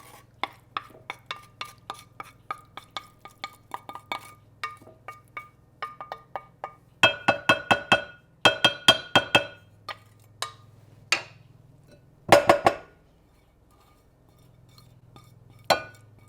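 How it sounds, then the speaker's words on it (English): A spoon stirs French onion dip in a bowl, giving a run of sharp clinks and taps against the dish, with denser bursts midway and a low hum underneath. "Stir that up to where it's mixed up pretty good."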